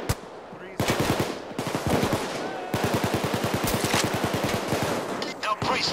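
Rapid automatic gunfire from a Payday 2 heist firefight, with dense bursts of shots rattling in long volleys across the whole stretch, loud and close.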